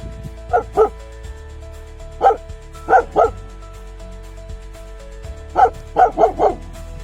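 A dog barks in short bursts of one to three in a remote snowy mountain landscape on a lake trek, fairly close and clear against quiet open air, with pauses between the groups of barks.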